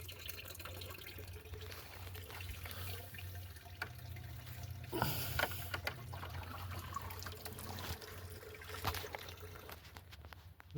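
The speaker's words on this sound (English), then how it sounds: "The pump's on the bottom that sends the water up through the cabin back out." A homemade mailbox water fountain, its bottom-mounted pump pushing water up and back out, trickles and dribbles steadily and quietly close by with a low pump hum underneath and no talk.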